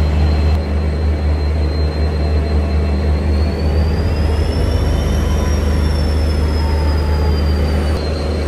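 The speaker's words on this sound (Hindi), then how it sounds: "यहाँ पे जो है ना ट्रेन का लोको रिवर्सल हो रहा है, कपलिंग का ना अलग ही क्रेज है।" Near a Shatabdi Express during locomotive reversal and coupling, a loud low rumble of rail machinery runs continuously with a long, high wheel squeal rising and falling over it.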